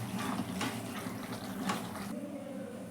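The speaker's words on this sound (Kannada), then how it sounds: "ಸ್ವಲ್ಪ ನೀರನ್ನು ಸೇರಿಸೋಣ." Water poured into a pan of cooking brinjal gojju, a steady broadband splash and trickle that runs close and loud, then eases off to a quieter simmer near the end.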